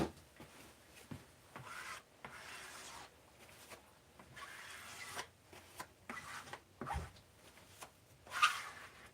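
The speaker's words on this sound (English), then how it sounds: "I'm able to squeegee out everything but what I need." Squeegee scraping excess glue across a foam model airplane wing, making soft, intermittent rubbing and scraping strokes, close and quiet, separated by short pauses.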